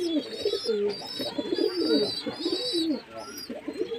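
Several pigeons coo steadily in a loft as they feed, overlapping low rolling calls close by with a few higher chirps, continuous for four seconds and barely any voice.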